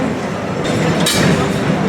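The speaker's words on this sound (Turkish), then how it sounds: "Bu meşhur Taksim Tünel tramvayı. Şöyle bir çekeyim." The historic Taksim Tünel tram on İstiklal Avenue in Istanbul rolls past close by, a loud steady rumble of rail wheels with a brief brighter squeal in the middle.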